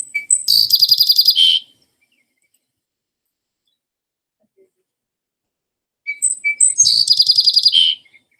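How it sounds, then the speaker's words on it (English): Recorded song sparrow song, two bright phrases of introductory notes followed by a rapid buzzy trill, played alone with a long silent gap between them. "We'll move on to the song sparrow."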